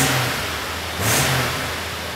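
A 1990 Jeep Wrangler convertible engine runs loud and close, its steady roar swelling once in a short rev before settling back.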